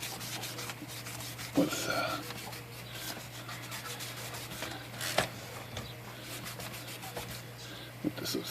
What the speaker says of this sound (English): I'm just going to give this a quick little rub down here